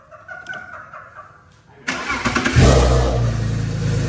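Bagged BMW E36 engine cranking after faint shuffling, then catching abruptly and settling into a loud, close, rough idle with a low rumble.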